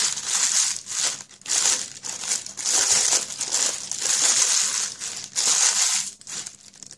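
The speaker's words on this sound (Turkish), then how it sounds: "Önce şu kağıdı şöyle açıyorum." Baking paper being unfolded and flattened for a 24 cm cheesecake pan, producing loud, close bursts of crinkling and crackling in repeated waves with short pauses between.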